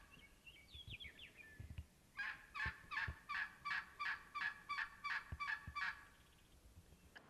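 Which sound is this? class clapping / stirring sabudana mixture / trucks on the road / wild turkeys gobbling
wild turkeys gobbling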